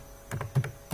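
A few soft keyboard keystrokes while typing Java code, three or four muffled clicks spaced irregularly over a faint room hum.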